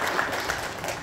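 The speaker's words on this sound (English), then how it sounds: "Y'all can clap for that" Congregation applauding during a worship service for a couple's 40th wedding anniversary, a steady wash of many hands clapping throughout, fairly loud and even, with no talk over it.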